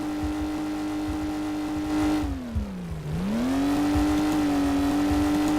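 A Car-S Model S70 in Garry's Mod roars along in a top speed test, a steady loud engine drone whose pitch dips briefly as it shifts, then climbs and holds high again.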